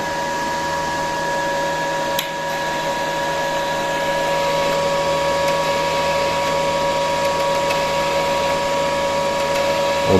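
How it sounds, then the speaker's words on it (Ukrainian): A Kaiser 310 Pro MIG welder runs in synergic mode at about 14 volts, giving a loud, steady electrical hum with a constant crackling hiss that carries on without a break and with no talking. "Зварюю мінімально десь на 14 вольтах"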